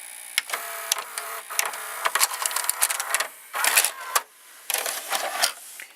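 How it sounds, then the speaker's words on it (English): The cassette mechanism of a Samsung VT4840C or Sony SLV 779HF VCR whirs and clicks as it ejects a tape, with motor buzzing in bursts and sharp mechanical clacks, close and clear without talk. "So now let's press eject again."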